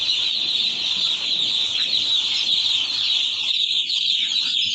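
Chickens at a poultry farm cluck and chatter as a dense, continuous flock, steady and fairly loud throughout with no talk over it.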